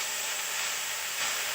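Elephant apple pickle being stirred in a pan, giving a steady hiss and sizzle throughout at a moderate level with no clear separate strokes.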